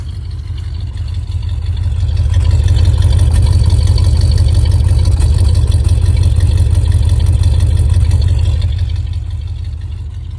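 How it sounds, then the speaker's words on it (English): A steady, deep exhaust rumble from a 1973 Cadillac Sedan deVille Hardtop at idle, close and even, with a smooth low throb holding throughout and no voices. "we'll move to the back and get a listen to the exhaust at idle"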